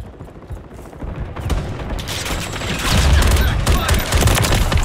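Sustained automatic gunfire from a remote turret and other weapons in Call of Duty Modern Warfare 3 (2023) multiplayer, dense overlapping bursts building louder toward the end, with faint voice chatter.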